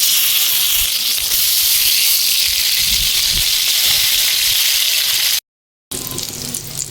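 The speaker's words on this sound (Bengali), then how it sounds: "বাকি বেগুনের ফালিগুলো ভেজে নেব" Eggplant slices sizzle in hot oil in a karahi with a steady, close hiss and crackle, and a few soft pan knocks. The sound drops out briefly near the end, then the frying resumes.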